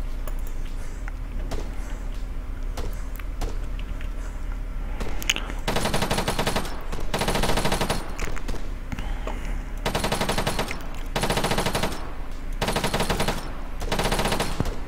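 ARMA 3 battle gunfire: after a few scattered distant shots over a low rumble, several loud, sustained bursts of automatic fire break out one after another, separated by short pauses.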